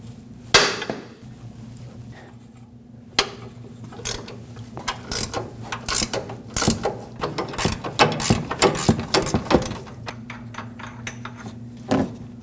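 A ratchet works a 19mm control arm mounting nut on a Nissan Frontier's rear upper arm, giving bursts of rapid near clicking interspersed with brief clunks and metallic handling noises, with no talk.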